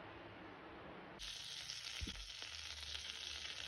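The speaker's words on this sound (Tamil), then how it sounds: "பாருங்கள், பேனில் பட்டர் போட்டிருக்கேன்." Butter sizzles and fries in a pan, a steady crackling hiss that jumps louder partway through, with a brief clunk of a utensil, and no talking.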